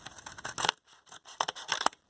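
Scissors snip through a paper plate in a few quick, close crunching cuts with short pauses between them, no talking.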